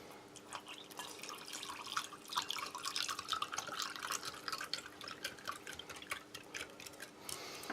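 Water trickles and drips into a container of fine pink raspberry drink powder from a 2013 British Army 24-hour ration pack, giving soft, irregular splashes and patters close by with no speech.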